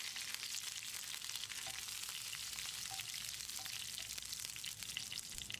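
Curry leaves and torn dried red chillies with fennel seeds fry in hot oil for a Chettinad chicken dish, a steady close crackling sizzle with occasional small pops and faint stirring, no voices.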